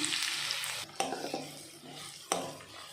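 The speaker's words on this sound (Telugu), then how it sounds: "ఒక మీడియం సైజు రెండు ఆనియన్స్ వేసుకుంటున్నాను" Two medium onions frying in a pan for a baby corn curry, a bright, loud sizzle broken by sharp scraping stirs of a spatula against the metal, with no talking.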